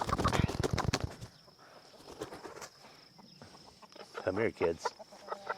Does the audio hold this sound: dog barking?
no